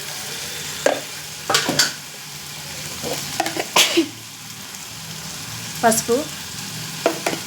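Dal with chopped tomatoes gets stirred in a pot, a ladle scraping and clinking in irregular bursts over a low simmering sizzle, with a single brief word spoken.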